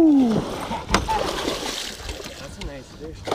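Musky thrashing and splashing in river water, close and sharp at first, followed by lighter sloshing and dribbling, with a voice briefly in the background.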